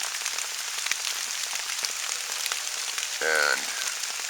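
Rain patters steadily on a hammock campsite in the woods, a continuous close hiss of drops on surfaces with scattered sharper taps, and a brief tonal whine rising near the end.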